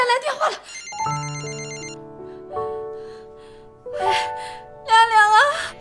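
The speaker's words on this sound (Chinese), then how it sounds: "亮亮来电话了。" A telephone rings with a bright electronic ringtone during a heated family argument indoors; the ringing is steady and moderately loud, with raised voices talking before and after it.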